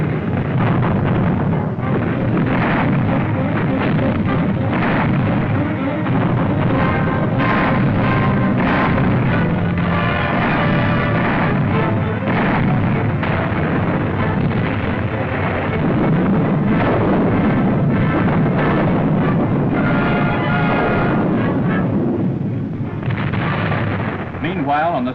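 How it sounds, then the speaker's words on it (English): Field artillery regiments in 1944 wartime fire heavy guns in a continuous, dense roar of booming blasts, loud and sustained throughout with no pauses. "Field regiments of artillery maneuver in close support of armor and infantry, providing the blasting power to keep Jerry on the move"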